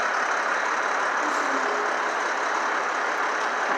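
A tow truck pulls in to haul away a disabled, fire-damaged garbage truck, its engine a steady, broad rumble throughout with no voices.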